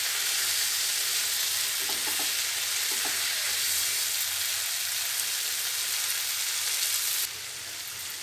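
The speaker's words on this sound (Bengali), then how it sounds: "নারকেলটা দিয়ে সুন্দর করে কষিয়ে নেব।" Grated coconut sautéed with spices in a pan for a vegetable shukto, a dense loud hiss of frying with faint stirring taps, easing slightly in level near the end.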